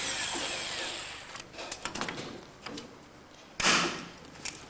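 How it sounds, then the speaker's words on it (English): A 1/8 inch hole being drilled into an aluminium aileron tube while fitting skins on a Drifter ultralight, heard as a few short bursts of a hand drill with a louder final burst, close by in a quiet workshop. "We're drilling a 1/8 hole into the tube there."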